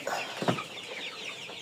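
Color bat broiler chickens on a meat farm give a few short clucks at close range, one sharper call near the middle, over quiet barn background.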